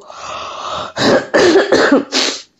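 A person coughs and clears their throat nearby: a long rough throat-clearing followed by four short, loud, separate coughs.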